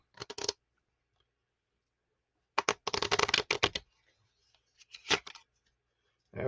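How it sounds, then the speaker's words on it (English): A deck of playing cards is shuffled in three short, crisp bursts of riffling and snapping, separated by near silence, close to the microphone. "I'm going to go ahead and shuffle this deck."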